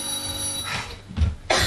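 A telephone bell rings briefly on a theatre stage, a bright steady tone that stops after about half a second, followed by soft rustling sounds.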